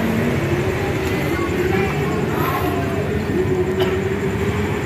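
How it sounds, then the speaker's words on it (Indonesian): A train rolling through Indihiang railway station in Tasikmalaya, a steady loud rumble with a droning engine tone and faint wheel clatter, close by, with people talking under the noise. "Kereta-kereta."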